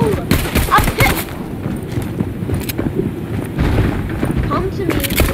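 Pistol shots in the battle royale game Fortnite, with irregular sharp cracks over a steady rumble of wind and game noise, loud and close, while a person talks excitedly.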